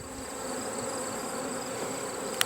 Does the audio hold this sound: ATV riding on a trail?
no